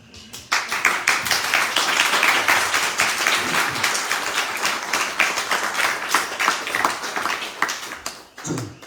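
An audience at a religious gathering on Hawaii's Big Island claps together in sustained, brisk applause. The clapping is loud and close, runs for several seconds and ends abruptly.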